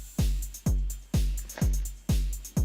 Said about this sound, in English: it's just a really simple little sort of skippy beat, but quite a tough 909